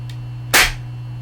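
A WE-Tech SMG-8 gas airsoft pistol fires a single loud, sharp crack indoors, with a brief echo over a steady low electrical hum and a faint click just before.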